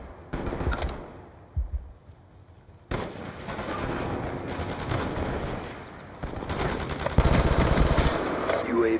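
Rapid automatic gunfire in Call of Duty: Black Ops 2, loud bursts of machine-gun fire broken by short pauses, with voices speaking between and over the shots.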